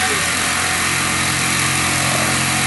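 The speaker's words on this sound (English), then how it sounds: "The mill will keep running because I haven't got the spindle relays all yet" CNC mill running with its spindle on, a loud steady mechanical drone with a whining motor hum, close and unbroken throughout.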